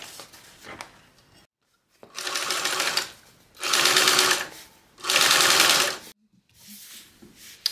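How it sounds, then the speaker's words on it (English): A sewing machine top-stitches along a lining piece in three loud, steady bursts of rapid needle clatter, separated by short pauses, with faint handling noises in between. "now we're going to top stitch along the, on top of the lining piece"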